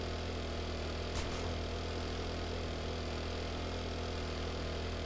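Steady engine drone of a moped in the video game 7 Days to Die, a continuous mid-low hum running evenly throughout with a brief faint click near the start and no talking.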